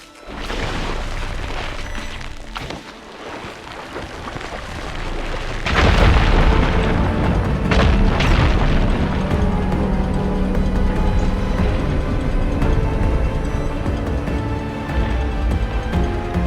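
Fire gleam rubble blown apart in Horizon Forbidden West, a deep booming blast that bursts in loudly partway through and rumbles on with crumbling debris, following a lower steady ambience.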